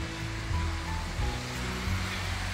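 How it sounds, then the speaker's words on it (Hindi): A tributary of the Shyok River in Ladakh flows past with a continuous, fairly close rushing and gurgling of water, steady throughout, while low tonal sounds run underneath. "पानी की आवाज़ देखो"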